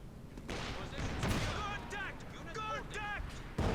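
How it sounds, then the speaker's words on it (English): An ISG artillery shell in Company of Heroes 2 bursting close by, a heavy boom amid battlefield rumble and scattered gunfire, with a voice commenting over it. "Their ISG shell so close."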